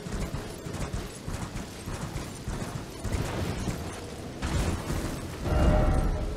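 Horse hooves clip-clop in steady rhythm as a horned steed gallops across open ground in the video game Elden Ring, loud and close throughout, swelling near the end.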